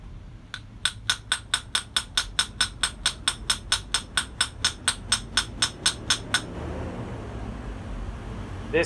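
Small long-nose rivet peening hammer striking small rivets, a steady run of about twenty sharp metallic taps at an even quick rhythm, close and clear, then stopping and leaving low background hum.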